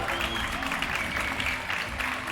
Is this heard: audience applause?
yes